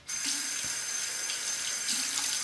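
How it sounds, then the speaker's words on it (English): Water runs steadily from a bathroom tap as a straight razor is rinsed, a close, even hiss and splash that starts abruptly and continues throughout without talk. "Rinse that."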